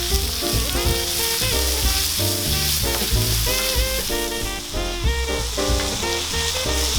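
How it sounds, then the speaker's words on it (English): Onions and bacon frying in rapeseed oil in a pan, a steady loud sizzle with stirring scrapes over it, continuous and close throughout. "cook the onions and the bacon down before we do anything else"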